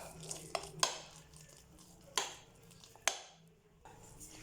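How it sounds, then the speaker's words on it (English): A spoon stirs vegetable pasta in a metal pot, giving a few scattered clinks and scrapes against the pot with soft squishing between them, close but quiet, with no talking. "And I give it a stir."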